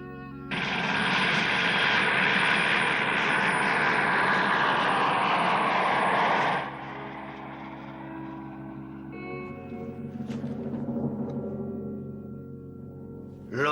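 A loud, roaring helicopter engine dominates, then abruptly drops to a lower, fading rumble as it moves off into the distance.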